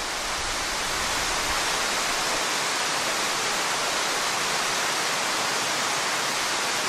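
Roaring waterfall in Nagasaki heard up close, a loud, dense and unbroken wash of falling water filling the whole clip without pause.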